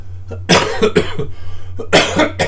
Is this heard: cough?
yes